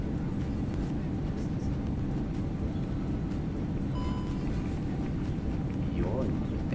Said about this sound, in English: there goes our reversers